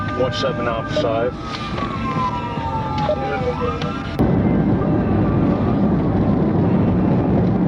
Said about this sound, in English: Trooper Moskally engaged his siren